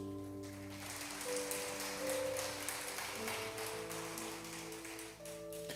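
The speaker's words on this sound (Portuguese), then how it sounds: "Como é que você pode aplaudir Jesus?" A church congregation applauds, a soft, crackling patter of many hands spread across the room, heard under sustained keyboard chords and held notes.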